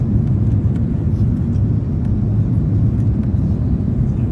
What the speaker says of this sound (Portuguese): Descendo então, mais um pouquinho já. O avião já pousa.